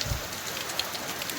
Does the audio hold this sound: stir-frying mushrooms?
no